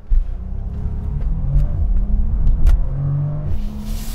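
A Bentley launches hard from a standstill up a hill, a deep rumbling engine roar building as it accelerates, heard from the back seat with a few clicks and knocks inside the cabin.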